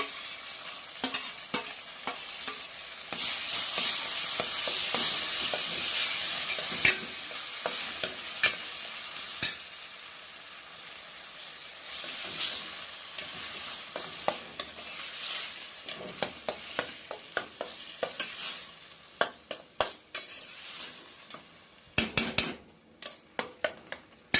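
Brinjal kootu masala is stirred and sautéed in a pan with a soft, continuous sizzle. Repeated scraping and clinking of a spoon against the pan come and go, growing sharper near the end.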